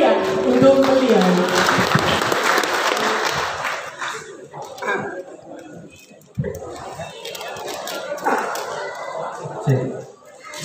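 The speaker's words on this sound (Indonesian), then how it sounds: "Beri tepuk tangan yang meriah untuk beliau." Audience applause at a book launch and thanksgiving event in a library in Brebes, a dense patter of clapping that fills the room, fades partway through, then swells again beneath a murmur of voices.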